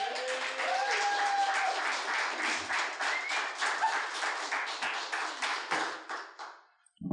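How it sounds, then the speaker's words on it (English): Applause from an open mic storytelling and poetry audience, sustained brisk clapping from a small room that holds steady for several seconds before tapering off and stopping. "Big round of applause for A. Benedict"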